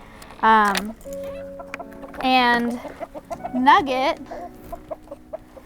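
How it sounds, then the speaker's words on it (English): Chickens clucking close by in several short bursts, with a brief spoken word between the calls. "So we have 2 chickens"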